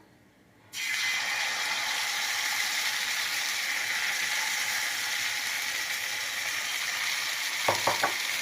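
After a quiet start, dosa batter made from leftover rice and ration raw rice hits a hot, lightly oiled dosa pan and sets off a loud, steady sizzle that lasts throughout, with a couple of brief clicks near the end.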